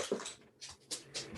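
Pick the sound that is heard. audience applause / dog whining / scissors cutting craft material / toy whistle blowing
dog whining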